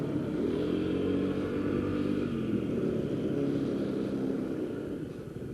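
A Honda Ruckus 50cc scooter engine drones close and steady, its buzzing note holding even throughout and easing slightly at the end.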